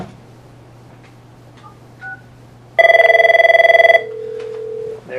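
An Avaya 9508/9608 series desk telephone rings loudly with a steady electronic tone pattern, close to the mic, followed by a softer sustained tone after the ring stops.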